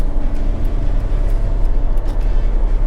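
A 2004 Mercedes-Benz E220 CDI W211 diesel saloon accelerating hard, a steady, loud engine and road drone heard from inside the car, with a few faint clicks and no speech.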